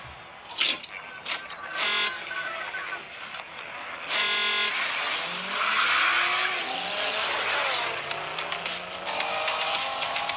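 Race cars on a circuit during a racing league event, engines roaring and whining past with tire squeals and skids, loud and busy throughout with several passing surges.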